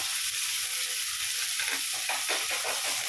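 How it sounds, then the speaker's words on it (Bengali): Chopped onion, carrot and other vegetables hit hot oil in a pan, a bright steady sizzle with brief stirring scrapes near the end, no voices. "এবারে তেলটা হালকা গরম হয়ে গেছে। এবারে আমি এই ভেজিটেবলগুলো দিয়ে দিচ্ছি।"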